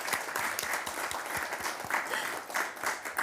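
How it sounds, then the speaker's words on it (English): Steady applause from a crowd at a city council meeting, honoring police officers, fills the whole stretch with dense, continuous clapping at a fairly close, even level. "Got some applause there"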